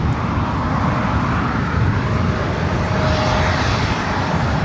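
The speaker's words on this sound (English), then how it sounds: "Starlux takes off for run 1" Starlux airliner taking off at LAX, a loud, close, sustained engine roar with broadband rushing noise holding steady for the whole stretch, no voices over it.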